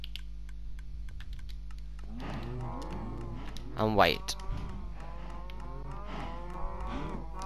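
Cows mooing in the video game Minecraft, several drawn-out bovine moos at moderate loudness, with one louder call near the middle, overlapping a person talking briefly.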